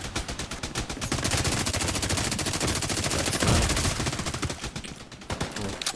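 Rapid automatic gunfire from The Division 2 in a PvP Dark Zone fight, loud continuous bursts of shots over about six seconds with a brief lull before firing resumes.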